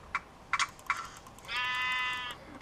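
Sheep in Minecraft on the Mineplex server let out a few short clipped bleats, then one longer drawn-out bleat, all fairly quiet with no talk over them.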